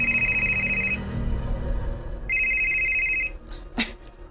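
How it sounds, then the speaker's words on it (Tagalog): A cellphone rings with two bursts of a bright, steady electronic trill separated by a short gap, loud and close, followed by brief clattering noises at the end. "bibagting ako cellphone."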